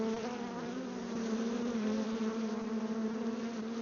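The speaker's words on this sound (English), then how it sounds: "all you're going to probably hear is bees" A dense, steady drone of many honey bees buzzing close by on a farm, a continuous humming swarm with no voices.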